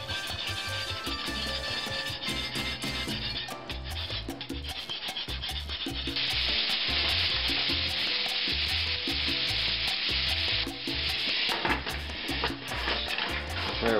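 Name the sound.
butter sizzling as it is worked into a pan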